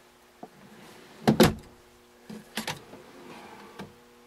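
Large storage drawers under the bed of a Winnebago 1706 FB travel trailer slide and knock, giving two loud, close clunks followed by lighter rattles and a final soft bump.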